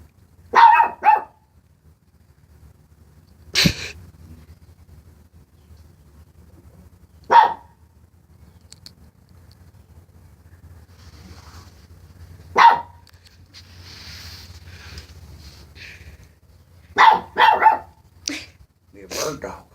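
A dog barking at a bird outdoors: single loud, sharp barks spaced several seconds apart, with a few quick double barks, close to the listener over a quiet background.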